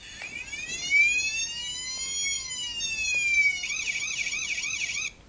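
A fire engine siren plays from a children's sound book. It is an electronic wailing tone that sweeps up and down steadily, then switches to a faster warble near the end before cutting off. It is close and clear, with no talking.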